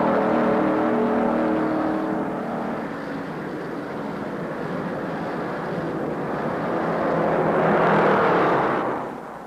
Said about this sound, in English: He stands on the throttle in the high bank groove.